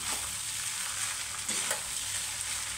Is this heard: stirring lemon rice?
yes